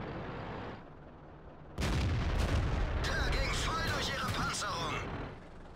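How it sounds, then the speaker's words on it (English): Tank guns firing HE shells in World of Tanks: a quiet engine hum, then a loud boom followed by several heavy blasts and crackling impacts in quick succession, fading back to engine noise, with talk over the top. "they're shooting HE at me"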